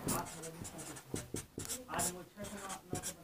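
A pen scratches out math on paper in short, quick strokes with brief pauses between them, close and fairly quiet, mixed in with a man explaining in Hindi.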